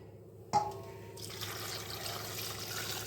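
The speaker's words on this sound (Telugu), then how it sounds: "ఒక మూడు గ్లాసుల వాటర్ వేయండి" Water poured from a glass into a pressure cooker holding washed peanuts, a sudden splash then a steady close pouring and trickling sound, no voices.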